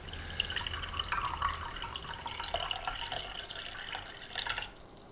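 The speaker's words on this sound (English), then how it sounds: "I poured tea for him into a wide porcelain cup with a paw print on the side" Tea being poured into a wide porcelain cup, a soft continuous trickling and splashing stream lasting several seconds, fairly quiet and close, ending abruptly as the pour stops.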